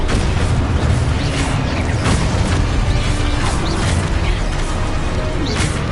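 Confringo fire spell bursting in Hogwarts Legacy, a loud, dense run of booming blasts and crackling impacts layered over constant battle noise and rumble, with several sharp bursts across the stretch.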